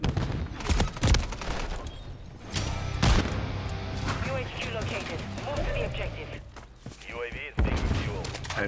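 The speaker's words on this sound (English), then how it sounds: "Throwing a stun grenade!" A stun grenade goes off in a Call of Duty match, several sharp bangs and thuds bursting through dense gunfire and game noise, with people talking over the action.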